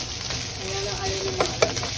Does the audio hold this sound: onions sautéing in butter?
yes